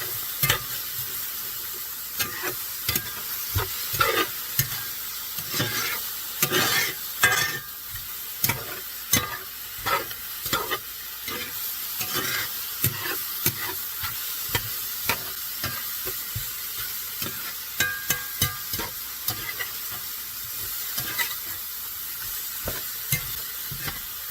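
Mushrooms frying and browning in a cast iron pan, a steady sizzle throughout with repeated scraping stirs that come in irregular clusters, close and fairly loud.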